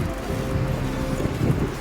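Monsoon wind blows at Damodar Kund in Junagadh, a steady low rumbling gust buffeting the microphone close up, with no voices.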